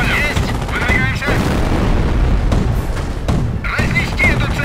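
Battle gunfire in the World War II strategy game Company of Heroes: Opposing Fronts, dense bursts of rifle and machine-gun shots with heavy booms, loud and continuous, with voices shouting through the action.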